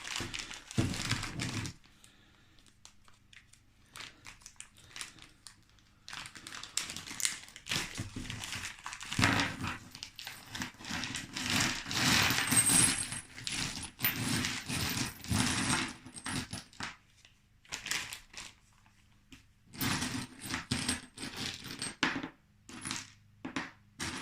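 Plastic bag crinkles open and small metal nuts and bolts clink and rattle as they are tipped out and sorted by hand, close and intermittent, bursts of jangling separated by short pauses.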